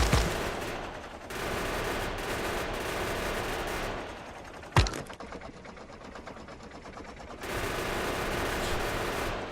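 Continuous rapid gunfire at biters in the video game Factorio, a dense mechanical chatter that pauses briefly, with one sharp louder blast partway through, before resuming steadily.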